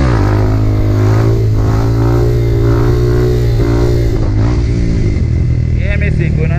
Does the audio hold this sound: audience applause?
no